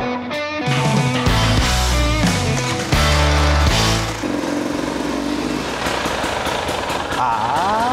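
A two-stroke motorcycle is fetched up a ramp for loading, its engine running steady and loud nearby, with heavy rumbling and a few pitch shifts before it settles into a rougher, lighter drone.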